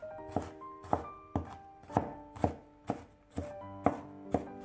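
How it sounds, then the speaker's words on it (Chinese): Kitchen knife mincing garlic on a cutting board: eight sharp, regular thuds at a steady rhythm, heard up close and alone. "再给它剁成蒜末。"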